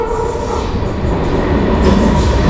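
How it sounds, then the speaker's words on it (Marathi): A heavy freight train heading toward Panvel on the Panvel–Karjat line near Chowk rolls past nearby, a loud steady rumble and clatter of wagons that grows slightly louder, with no talking. "मालगाडी आहे"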